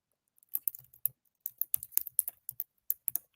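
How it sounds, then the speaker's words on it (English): Rapid, uneven keystrokes on a computer keyboard, close and fairly quiet, coming in bursts of clicks with short pauses and no talking. "Well, I'm just typing it in, Steve."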